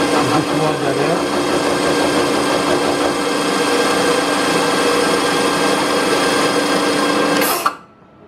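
Bridgeport milling machine running an involute cutter to cut a spur gear, a steady, loud mechanical whine with a constant motor hum that runs evenly, then stops abruptly near the end.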